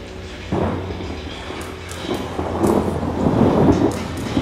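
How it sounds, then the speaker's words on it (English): Rolling thunder rumbles through the video game Outlast, several low booms swelling in the distance over a steady wash of rain. "Well, I can hear thunder."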